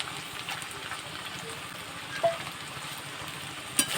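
Small chicken pieces sizzle as they fry in a pan for chicken chowmein, a steady dense crackle close up with a couple of sharper pops. No one talks during it.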